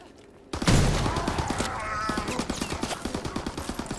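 Lewis gun firing in a zombie video game, a loud sudden onset followed by a steady rapid burst of shots that continues for several seconds, with some game noise underneath.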